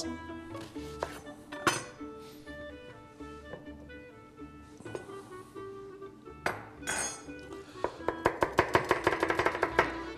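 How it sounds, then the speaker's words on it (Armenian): Knife chopping onion into thin, long half-moon slices for masrapur, a steady run of close crisp taps on a board, sparse at first and then quickening into a rapid even burst near the end, with light clinks of kitchenware. "շատ բարակ, բայց երկար կիսալուսնաձև կտրատված սոխը"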